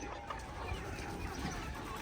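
Backyard chickens cluck softly while being fed grain, a dense, steady flock murmur heard close with continuous background noise and no clear speech.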